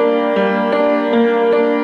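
Solo piano plays the closing phrase of the retrospective theme from The Office, with sustained chords and gentle re-struck notes at an even pace, fairly loud and close, with no voices.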